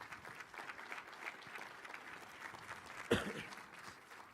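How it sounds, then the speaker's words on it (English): Applause for union workers at a Rock Island state of the city address: a steady wash of audience clapping, moderately loud throughout, with a brief sharper burst near the end. "round of applause for the union guys"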